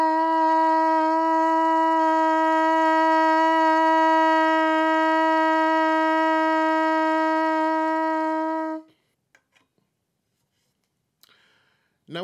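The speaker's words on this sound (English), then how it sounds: "Now, the first thing I'm going to recommend is buzzing the lead pipe." Lips buzzing into a trumpet lead pipe with the tuning slide removed, producing one steady, loud, buzzy tone held for about nine seconds before cutting off, followed by near silence and a few faint clicks.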